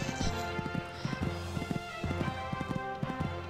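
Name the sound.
horse hooves galloping in Horse Olympics video game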